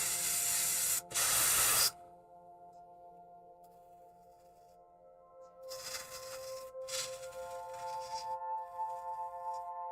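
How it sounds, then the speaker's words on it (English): Airbrush spraying paint onto a miniature, heard as two loud close hissing bursts at the start, then a quieter stretch with a steady hum, followed by further hissy spraying bursts of varying strength. "go right back to airbrushing"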